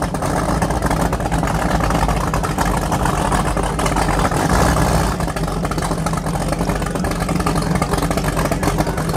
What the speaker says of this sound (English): I know it's kind of loud because of his powerboat